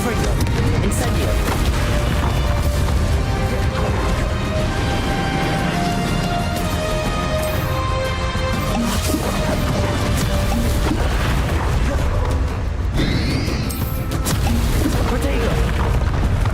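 Fiery spell blasts in the Hogwarts Legacy video game, a dense continuous barrage of booming explosions and crackling impacts layered over loud battle sounds and music, with a voice speaking throughout.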